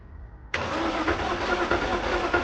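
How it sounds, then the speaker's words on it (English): A car engine cranking over on the starter during a compression test with a gauge fitted to the second cylinder; a steady, loud, close whirring churn begins abruptly and continues without catching. "Now we put on the compression kit into the second cylinder and start to crank it again"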